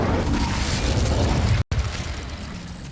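Confringo and Incendio spells burst in Hogwarts Legacy as a dense, loud roar of fiery blasts that breaks off briefly to silence, then continues with a rumbling, fading tail.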